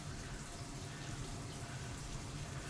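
Hot water runs steadily from a kitchen tap as broadband, even hiss, faint and continuous throughout with no talking.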